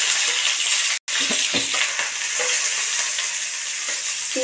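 Chopped onion fries in hot oil for a lentil and water spinach dish, a loud, dense, continuous sizzle with faint stirring scrapes underneath and a brief dropout near the start.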